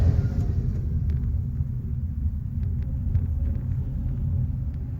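A Maruti Suzuki Fronx accelerates along a highway, heard as a steady, heavy low rumble of engine and road noise from inside the car, continuous and fairly loud throughout with no talking.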